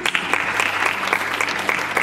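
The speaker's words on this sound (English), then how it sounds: "Big round of applause, please." An audience at a university fashion show claps steadily throughout, a dense patter of many hands applauding at close range.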